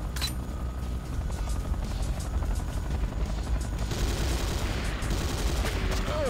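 A helicopter in the game Command & Conquer: Renegade drones and thumps continuously, with bursts of gunfire and a brief boom mixed in during a loud battle.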